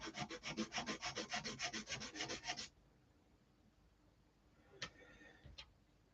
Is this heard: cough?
no